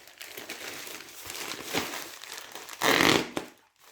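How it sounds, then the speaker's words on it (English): A plastic package being cut open, giving close, faint crinkling and rustling with scattered scrapes and a louder crackling burst near the end, without speech. "No, I'm going to cut this open."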